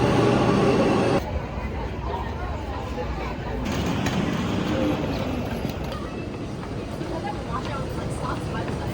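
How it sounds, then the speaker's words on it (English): A passenger train ride gives off a steady rolling rumble and rattle that shifts in loudness as the carriage moves, with a louder burst at the start. "Now I'm gonna be hopping on the train to go meet with a friend."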